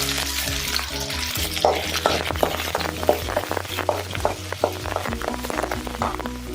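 Curry leaves crackle and sizzle loudly in hot oil for a goat intestine curry, with steady frying hiss, sharp popping bursts and some stirring.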